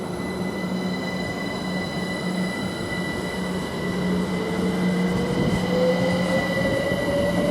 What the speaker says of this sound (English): this train now departing Great Northern Service, London King's Cross towards King's Lynn